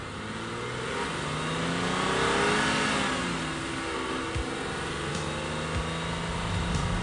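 A BMW M5 E28 sedan's engine rising in a steady rev and holding, a loud, broad engine roar with a faint drop in pitch toward the end and no talking.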